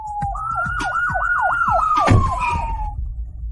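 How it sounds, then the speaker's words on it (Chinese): A police car siren wails loud and close, its pitch rising and falling in quick repeated sweeps before holding a steady high tone and fading out. "刚到门口，就看见虎哥被押上警车。"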